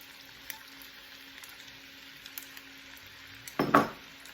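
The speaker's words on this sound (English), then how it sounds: "now I'm going to put the mushrooms in" Mushrooms dropped into a hot pan on a home stove give a short burst of sizzling near the end, after a stretch of quiet kitchen hum, with no talking.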